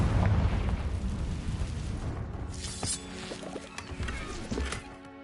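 A fiery Confringo spell explosion from Hogwarts Legacy rumbles loudly and continuously, with crackling, debris-like bursts scattered through the noisy blast as it gradually eases.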